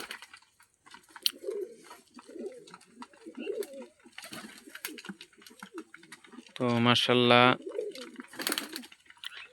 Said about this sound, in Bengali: এখানে বিভিন্ন প্রজাতির কবুতর আছে